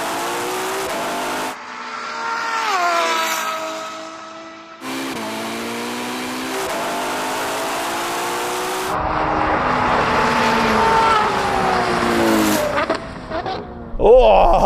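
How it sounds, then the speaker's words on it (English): Ferrari cars launching in a drag race, a Purosangue, 812, SF90 and 296 GTB, with high engines revving hard through rising and falling gear changes and some tire noise. The roar is loud and sustained for the whole stretch. "I think your launch was better that time, David."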